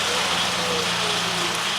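A Nissan 1.2 DIG-T engine runs steadily close by with a dense mechanical rattle from its slack timing chain, a continuous brief stretch with no clear talk.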